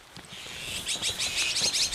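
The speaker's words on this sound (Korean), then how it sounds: "저 산까치 저거 저놈들" Eurasian jays call in a cherry orchard with a quick run of sharp, chirpy notes. The calls grow louder and denser toward the end, and no one speaks.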